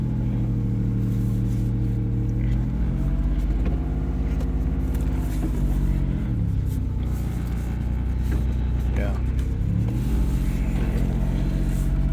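A 2004 Mazda 6s with a V6 engine runs loud and close, a heavy, steady rumble whose pitch rises and falls twice as it is revved, with no one speaking over it.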